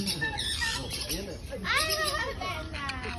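A pet bird squawks in short harsh bursts amid a busy household, with children's voices and adults talking close by.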